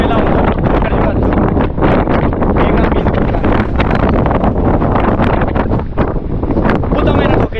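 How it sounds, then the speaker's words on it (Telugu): Strong wind buffets the microphone without pause at a Panchgani hilltop viewpoint, a loud, steady roar with gusty rumble that fills the whole stretch. "గాలి మాత్రం మనకు దొరుకుతుంది."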